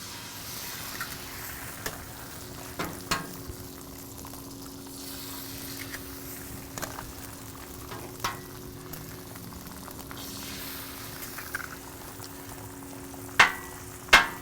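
Eggs frying on a Blackstone griddle give a steady, soft sizzle throughout, broken by occasional light clicks and taps of a spatula near the end.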